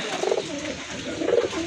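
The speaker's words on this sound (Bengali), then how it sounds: "এই যে দেখেন কবুতর কিন্তু অনেক ডাকে" Caged domestic pigeons cooing, two soft throaty burbling calls close by, separated by a short pause.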